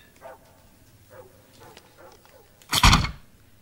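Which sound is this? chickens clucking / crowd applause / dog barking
dog barking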